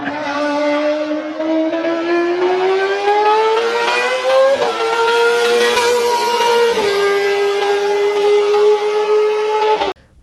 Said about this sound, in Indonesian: ini ada mobil balap F1